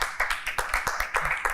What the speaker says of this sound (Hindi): इनके लिए तालियां आप लोग बजा दें